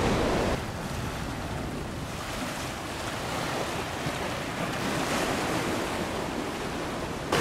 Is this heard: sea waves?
yes